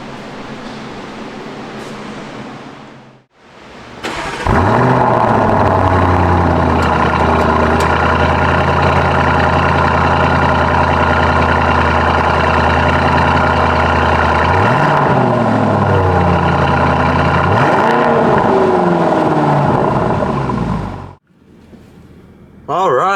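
A Lamborghini Urus super-SUV engine idles and then pulls away, a deep, loud, steady rumble with rising and falling revs as it drives, heard close with no voices.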